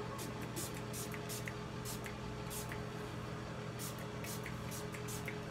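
A spray bottle mists homemade hair tonic into hair, several short hissing bursts in an irregular rhythm, faint and close over a steady low background hum.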